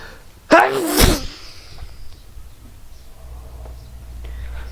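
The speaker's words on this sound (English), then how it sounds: "I need a sneeze." A single loud sneeze bursts out near the start, followed by quiet breathing and faint background noise.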